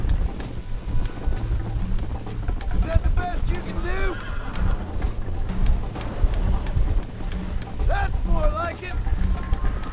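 A horse gallops with rhythmic hoofbeats and whinnies a few times during a race in the Western video game Red Dead. Game characters talk over the sound, and the galloping carries on throughout.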